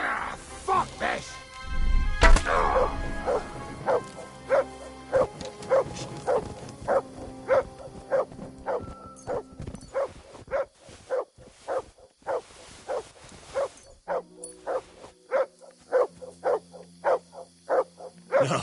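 A dog barks repeatedly in the medieval role-playing game Kingdom Come: Deliverance II, a steady run of evenly spaced, fairly loud barks over ambient game sound, with a brief burst of other noise near the start.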